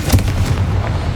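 A Confringo fire spell blasts in the Hogwarts Legacy video game on PS5, a single loud, close burst with a sharp attack and a short rumbling tail, with no talking over it.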